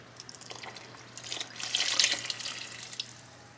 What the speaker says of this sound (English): A good stir.